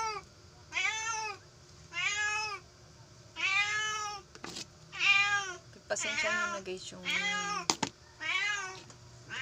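A cat meows again and again, loud and close, with a few sharp knocks in between and a voice speaking briefly.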